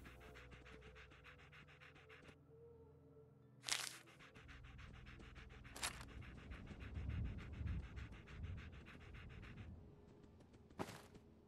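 A dog in the video game Fallout 4 pants steadily in rapid rhythmic breaths, with a few sharp clicks and louder game noises cutting in.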